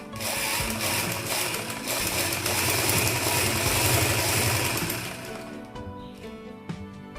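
A sewing machine stitches a gamis with a steady, loud mechanical whirr that runs for several seconds, then eases and stops near the end.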